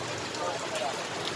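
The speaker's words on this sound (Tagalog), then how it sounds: "Lakas ng ulan." Heavy rain pours down during flooding, a dense, steady hiss of water drumming on surfaces that runs unbroken throughout, close and loud, with people talking over it.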